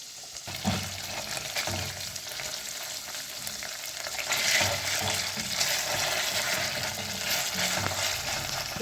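Liver frying in oil in a pan gives a steady, close sizzle throughout, with soft stirring scrapes rising and falling and no voices.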